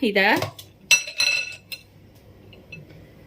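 Beaters are pulled from an electric mixer after whipping eggs and sugar for a donut cake, giving a few sharp metallic clinks and clicks after a brief voice at the start, then near quiet.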